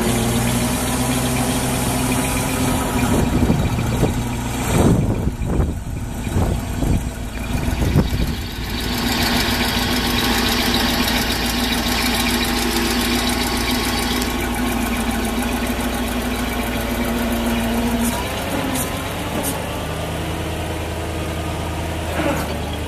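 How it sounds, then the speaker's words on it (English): A 1986 rollback wrecker truck runs its winch, the engine idling and droning steadily nearby with a few knocking clunks and mechanical rattles early on, then a lower hum as the winch stops. "Winch is working."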